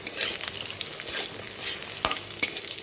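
Sliced bitter gourd and pointed gourd frying in hot oil, a steady dense sizzle with a few sharp spatters and stirring scrapes, close and continuous with no voices.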